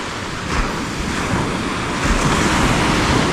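Ocean waves rolling onto the shore in a steady, broadband wash with wind noise over the microphone, continuous and fairly loud throughout with no talking.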